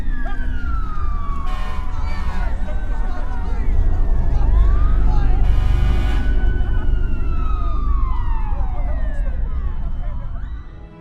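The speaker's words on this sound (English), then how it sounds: "became a siren of one of these ambulances or fire trucks that are showing up" An emergency siren wails nearby, sweeping down and up in pitch over a low traffic rumble, with a few short electronic chirps mixed in.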